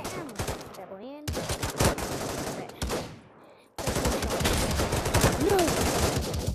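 Rapid gunfire bursts from a video game speed run, loud repeated shots with brief gaps and a quieter stretch before a dense, sustained barrage.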